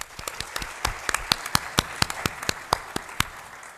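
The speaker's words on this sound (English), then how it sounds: "Let's give a round of applause for Dr. Martin." A small audience at a candidate forum gives a round of applause, sparse distinct handclaps in an uneven scattered rhythm, fairly close and modest in volume.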